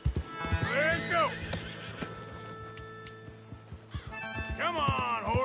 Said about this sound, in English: Come on, horses.